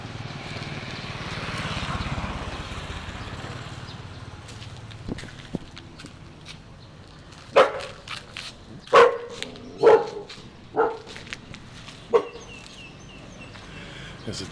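A dog barks several times in short, loud bursts close by among parked buses on a street in Cambodia, following a stretch of quieter outdoor ambience with chirping birds.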